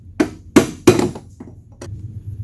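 A hammer strikes metal under a car with three loud blows in quick succession, then a few lighter taps, while fixing driveshaft interference.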